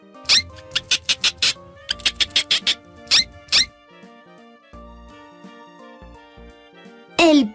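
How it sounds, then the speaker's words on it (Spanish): A hamster squeaks in quick, sharp, high bursts, two rapid runs of several squeaks followed by a couple more, over a soft music background. "El hámster."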